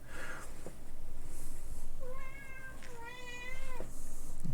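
A cat meows close by, giving a couple of drawn-out, wavering meows in the middle of the stretch over a quiet, slightly noisy room, with no talking.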